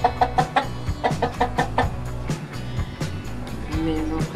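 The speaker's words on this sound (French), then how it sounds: "avec la poule qui est juste ici, vous la voyez" A hen clucks in a series of short, rhythmic bursts, fairly close, with some farmyard background noise and a brief murmur of voices.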